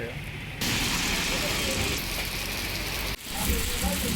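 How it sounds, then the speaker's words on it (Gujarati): Steady rain hisses and patters loudly and continuously, with a brief dip near the end before the downpour resumes. "વરસાદ ચાલુ થઈ ગયો છે"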